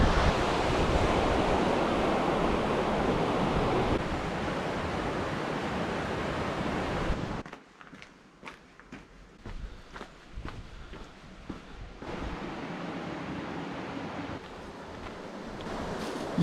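Small river, the Vala de Casalis, flowing toward the Hérault on the slopes of Mont Aigoual: a broad, steady rushing wash close by that drops to a quieter, thinner trickle with scattered footsteps halfway through.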